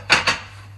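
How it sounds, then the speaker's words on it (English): Ceramic plates clatter together as one is taken from a kitchen cupboard: two quick, bright clinks close by, then a quiet hum of the room, with no talking. "That noise is just plates."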